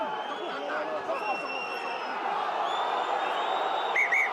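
Rugby stadium crowd at a Top 14 match between Toulon and Castres reacting to a tackle, a broad murmur of voices with whistles and rising calls swelling in the background.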